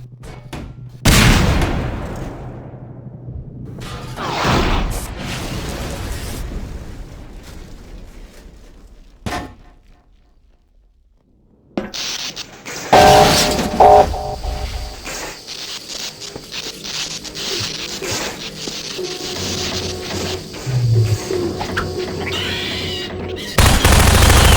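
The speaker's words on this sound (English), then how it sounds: "the player gets to use physics to jam the gun's mechanism and cause it to break" A turret gun in Half-Life: Lost Coast jams through physics and breaks apart, giving sharp bursts of gunfire and heavy metallic crashes with a quiet gap between them, followed by dense clattering mechanical noise.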